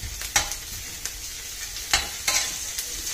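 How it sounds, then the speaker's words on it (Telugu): Curry leaves drop into hot oil in a pan for sweet potato pulusu and sizzle steadily, with several sharp scrapes of a spoon stirring close by. "ఇలా గోల్డెన్ బ్రౌన్లో వేగిన తర్వాత కరివేపాకు వేసుకోవాలండి కొద్దిగా."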